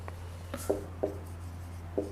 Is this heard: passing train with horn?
no